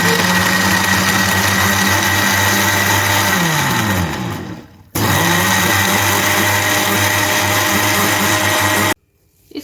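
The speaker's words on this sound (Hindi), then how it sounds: "ब्लेंडर को बंद कर दीजिए और इनको ब्लेंड कर दीजिए।" Countertop blender whirring loudly as it blends an Oreo milkshake with vanilla ice cream and chocolate sauce, motor pitch sliding down before a brief cut, then running steady again until it stops abruptly.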